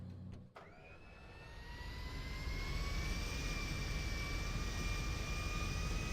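A jet airplane's engine in a role-play video game spools up after a brief click, its whine rising and then holding as a loud, steady roar with sustained high tones.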